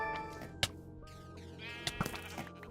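Minecraft sheep bleat a few times over game background music, with short sharp hit sounds punctuating the calls.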